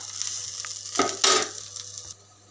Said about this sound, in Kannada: ಇನ್ನೊಂಚೂರು ಗರಿ ಗರಿ ಆಗೋವರೆಗೂ ಹುರಿಬೇಕು